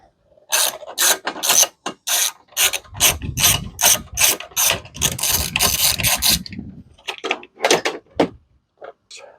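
A 7 mm ratchet works loose the parking brake release on a Crown Victoria, giving close, crisp bursts of rapid clicking in quick back-and-forth strokes with short pauses between them.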